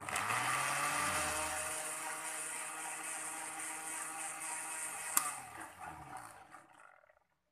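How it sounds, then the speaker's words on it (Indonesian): A repaired kitchen blender runs with a smooth, fairly quiet whirring hum, steady and close, then winds down and fades to silence near the end. "Ya, cukup halus sekali suaranya teman-teman, macam blender baru."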